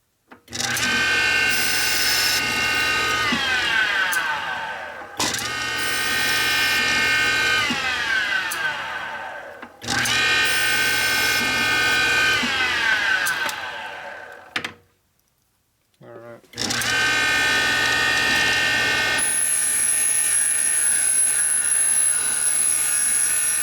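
A bench grinder's stone being redressed during a 1983 Harley-Davidson FLTC 80ci Shovelhead engine rebuild, sounding as loud repeated grinding bursts of several seconds each, with brief pauses and one longer gap before a final run.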